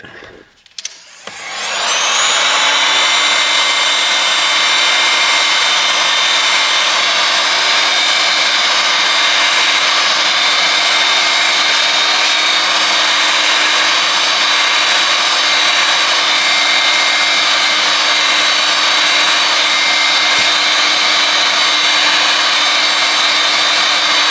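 A heat gun warms a phone to loosen its screen, starting up after a short pause into a loud, steady whine and blowing roar that holds unchanged for about twenty seconds.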